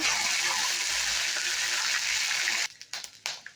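Ginger-garlic paste hits hot oil left from frying rohu fish belly pieces, giving a loud, steady hissing sizzle for about two and a half seconds before it drops to a quieter, broken crackle.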